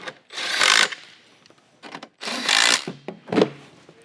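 Bolts on a XERO Pure Plus being run down with a power tool in short bursts, two longer whirring runs and a few quick ones, with light knocks between them.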